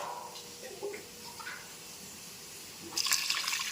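Water is poured into a cooking pot while goat trotter paya is being prepared, a soft steady splash that swells louder and brighter near the end of the short stretch.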